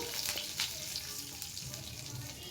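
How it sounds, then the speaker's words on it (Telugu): A tempering of lentils, cashews, mustard seeds, cumin and fresh curry leaves frying in oil, giving a steady close crackling sizzle with small pops and a few faint clinks throughout. "అందులోనే ఆవాలు, జీలకర్ర, పచ్చి కరివేపాకు వేసేసి కొద్దిగా పోపుని వేయించేసుకుంటున్నా"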